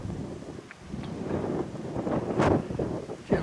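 Wind gusts buffet the microphone on a cool, windy autumn fell in rocky Lapland terrain, a steady low roar with a few stronger rushes, no one speaking.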